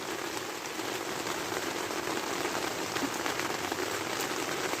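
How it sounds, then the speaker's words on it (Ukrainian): Steady rain falls on a tomato garden after three days of downpour, an even, continuous patter of drops on leaves and surfaces, close and constant with no talking. "у нас іде вже три дні дощ гарний"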